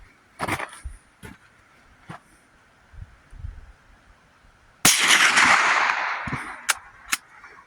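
A rifle fires at a styrofoam target outdoors, one loud sharp report with a long rolling echo behind it, set among a few quieter clicks and handling knocks near the start.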